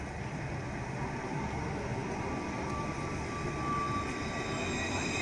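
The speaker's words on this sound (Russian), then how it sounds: "Вот снова проходит трамвай." Tram passing through central Strasbourg near the railway station, a steady low rumbling roll with a faint metallic whine, continuous and moderately close for several seconds.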